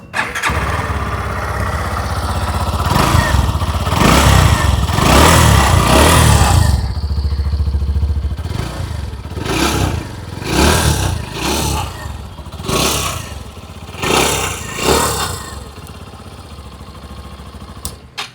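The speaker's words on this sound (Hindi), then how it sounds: "आइए अब सुन लेते हैं इस बाइक की एग्जॉस्ट नोट।" A 2026 Hero Glamour X 125 motorcycle engine starts, idles with a throaty rumble, then revs in several sharp bursts, loud and close.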